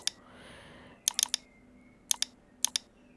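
Short bursts of key clicks on a computer keyboard, several quick taps grouped together with pauses between, close and fairly quiet.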